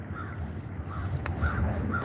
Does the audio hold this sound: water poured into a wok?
no